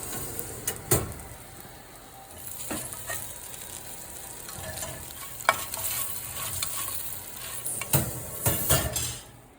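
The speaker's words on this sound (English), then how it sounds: "Steaks look like they're sizzling away nicely" Steaks sizzle and fry in a pan with a constant crackling hiss, punctuated by several clanks and scrapes of a utensil against the pan, close and without talk.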